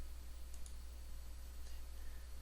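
A few faint, sharp mouse clicks on the OK button while using PADS circuit-design software, set against a steady low electrical hum with no talking.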